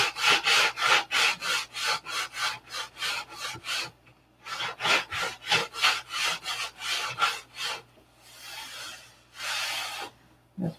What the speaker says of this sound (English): Still can feel the glue up here, so we'll keep sanding up here until this is gone.